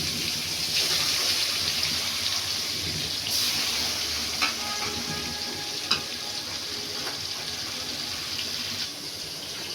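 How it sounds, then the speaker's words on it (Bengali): Marinated fish frying in oil with turmeric in a wok gives a steady, close, even sizzle throughout, with a few small pops and light clinks breaking through the crackle. "চলো মাছটা ভাজা হইতে হইতে মশলাটা বানায় নিয়েছি"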